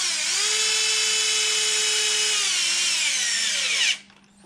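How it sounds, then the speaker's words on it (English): A power drill drives body screws into a Losi Super Baja Rey 2.0 RC car, whining loudly and steadily near the mic for about four seconds, its pitch sagging slightly as the screw seats, then cutting off abruptly. "So I'm going to put in just the 4 main screws on this body"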